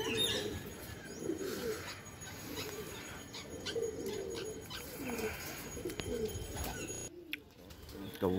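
Pigeons coo steadily in a morning outdoor scene, with wing flaps and bird calls throughout, fairly close and continuous, and a brief pause near the end.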